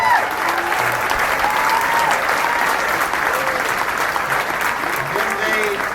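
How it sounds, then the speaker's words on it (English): An audience applauds for ASB students at a school event: dense, steady clapping that holds at an even loudness for the full stretch, with a few faint voices mixed in. "Let's give them all a round of applause."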